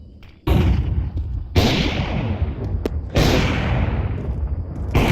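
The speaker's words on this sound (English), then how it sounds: "Throwing flashbang." A flashbang grenade thrown in Counter-Strike 2: three loud, sharp blasts, each trailing off into a rumbling, decaying tail, plus a brief click in between, close and with no voices.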